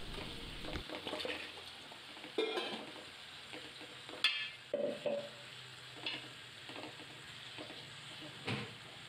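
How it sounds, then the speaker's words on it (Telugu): Prawns sizzle and fry in a hot pan while being stirred and turned, with soft scraping strokes and bursts of crackling over a low steady background. "కొంచెం సేపు వేడెక్కిన తర్వాత మళ్ళీ వాటిని తిరిగేసి ఉడికించాలి కొంచెంసేపు"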